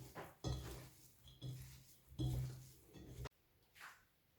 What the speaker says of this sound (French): On mélange gentiment